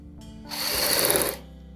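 A sewing machine stitches the collar of a kurti, running in one short burst of rapid whirring that rises, holds for under a second and stops, close and fairly loud.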